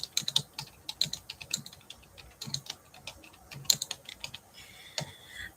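Fast, irregular clicking of typing on a computer keyboard, close and fairly quiet, in bursts with brief pauses and no talking.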